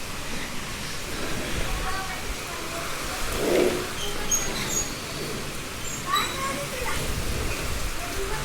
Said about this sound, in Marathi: लाईट गेली आहे, पाऊस लय खूप मोठा यायलाय.